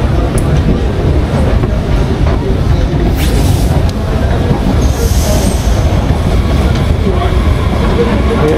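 Train moving through a station in Germany, a loud continuous rumble of wheels on rails with faint squeals and clicks, heard close by from the platform.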